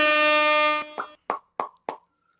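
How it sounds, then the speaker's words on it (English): An air horn sound effect blares as a steady, loud, buzzy blast for nearly a second, followed by four short, sharp plopping hits spaced evenly apart. "We're gonna do some air horns with you."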